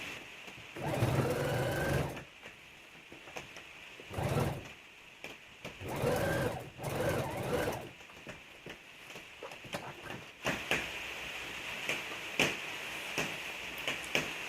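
A sewing machine stitches a simple neck design on a garment, running in several short bursts of rapid mechanical clatter separated by pauses, close and fairly loud, with no talking.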